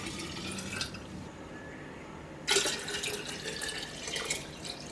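Water poured from a faucet or jug as a liter is measured out for homemade lemon juice made from frozen lemon peels, a steady close running and splashing stream that cuts off briefly, then resumes louder and continues to the end.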